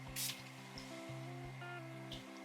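A 4-ounce (120 ml) cologne spray gives one short, close hissing burst near the start, followed by low steady background hum.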